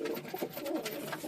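A bird-lined pigeon perched on a rooftop gives soft, close cooing calls across the short stretch, moderately loud with no voices present.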